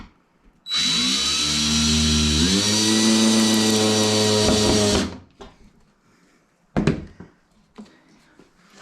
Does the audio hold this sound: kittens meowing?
no